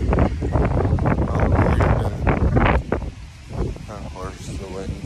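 Wind gusting outdoors and buffeting the microphone, loud rumbling bursts that ease off partway through, with a person talking over it.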